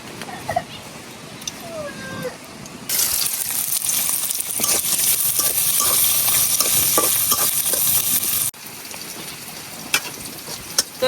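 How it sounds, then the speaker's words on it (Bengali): Onion and garlic frying in hot oil as tempering for cooked greens, a loud continuous sizzle with stirring scrapes that starts suddenly, runs several seconds, then drops back to quieter stirring and clinks nearby. "যে পেঁয়াজ রসুনগুলো কিন্তু আমার বাজা হয়ে গেছে লাল লাল হয়ে গেছে"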